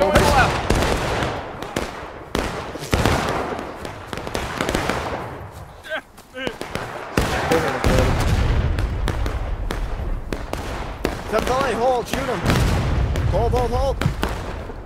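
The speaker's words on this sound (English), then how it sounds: "I'm just going to fire at him." Gunfire in the Civil War era game War of Brothers, repeated sharp musket shots and cracks near and far through the clip, mixed with players' voices talking over the shooting.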